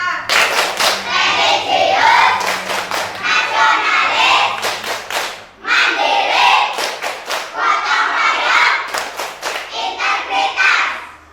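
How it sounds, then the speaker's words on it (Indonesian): A fifth-grade class performs a rhythmic clapping chant, loud sharp claps in quick patterned bursts alternating with children chanting together, repeated in two rounds with a brief pause between. "kita tepuk PPK dulu. Tepuk PPK."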